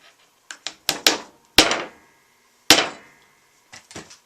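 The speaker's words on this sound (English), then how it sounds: "So you just drive a nail tack down in those two little marks, which is 6 inches apart." Nail tack hammered into a wooden board during a steel-square woodworking setup: a series of sharp, close wooden knocks, a few quick taps followed by three heavier blows spaced apart, then a couple of light trailing taps.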